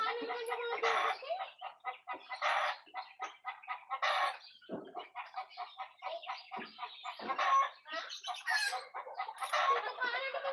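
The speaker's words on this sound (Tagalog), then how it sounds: "Nagtutukaan na naman yung mga bibi." Ducks squabbling and pecking at each other in a pen, a busy run of close, repeated squawks and clucking calls in quick bursts with short pauses between them.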